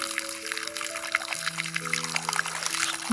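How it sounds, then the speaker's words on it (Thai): Ordinary tap water poured onto ice to melt it, a steady splashing pour with trickling bursts over a background of low tonal hum, continuous and fairly close. "ต้องเปิดน้ำธรรมดาใส่น้ำแข็งให้มันละลาย"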